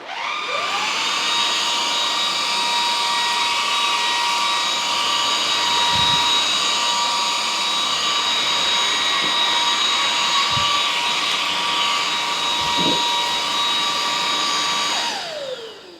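A Jashen V16 cordless vacuum cleaner runs with a steady high-pitched whine and airflow rush, starting up and spooling down at the end, with a few light bumps as it moves over the floor.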